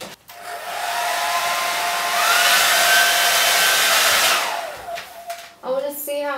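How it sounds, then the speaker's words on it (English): A hair dryer blows with a loud, steady whoosh for several seconds, then switches off, followed by a brief voice. "Do you want to dry it with the hairdryer?"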